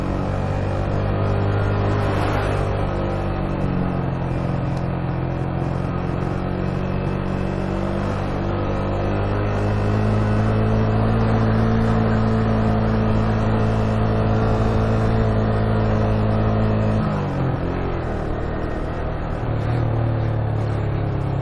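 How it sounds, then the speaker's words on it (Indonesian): A truck drives past on a narrow mountain road at night, its engine a loud, steady drone that swells, shifts gear around the seventeenth second and keeps rumbling close by, with no voices. "Oke, ada truk. Wah, lewat, ada temannya."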